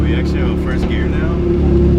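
A BMW E36 fitted with a 2.93 differential and solid diff bushings pulls away in first gear, its engine a loud steady close drone with a rising whine, while someone talks over it.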